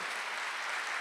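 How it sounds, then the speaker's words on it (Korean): Sustained applause from a church congregation during a Sunday worship service, a dense steady wash of clapping filling the whole second with no pauses. "박수 좀 세게 쳐봐요"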